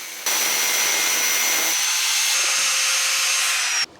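A threaded bolt section being cut by a power tool for a homemade coconut tree climbing robot, a steady loud grinding whine running continuously for several seconds, then stopping abruptly.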